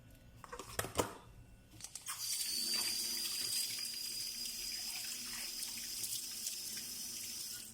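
Tap water runs steadily into a sink for splashing onto the face during a face wash with herbal soap, a continuous bright hiss after a few brief handling knocks, close and alone.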